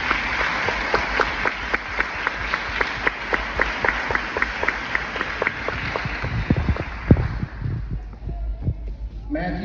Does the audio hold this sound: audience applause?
yes